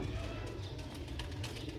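A pure Sialkoti pigeon coos in a steady, low, rolling murmur that continues throughout, close by with light background noise.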